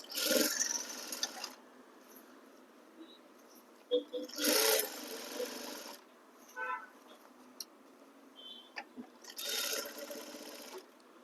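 A sewing machine stitching a blouse runs in three short bursts of fast, close mechanical whirring, separated by quieter pauses with small handling clicks and a voice talking in between.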